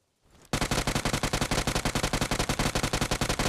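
Rapid automatic UMP45 fire in the mobile game BGMI, a fast, even string of punchy shots starting abruptly after a brief quiet moment and continuing without pause, loud and close.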